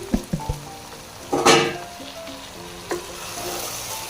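Raw rice tipped into a hot pot and stirred for biryani in a home kitchen, sizzling as it fries, with a few scraping knocks of the spoon early on and a louder burst of frying midway.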